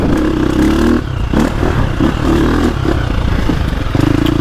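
A 2025 KTM 350 XCF four-stroke dirt bike chugs along in second gear on a woods trail, its engine loud and close with a steady throbbing pulse that dips and surges as the throttle eases and picks up.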